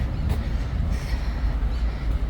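A tram rolls along its rails through Florence city streets with a steady low rumble and a faint hiss, continuous and fairly loud throughout.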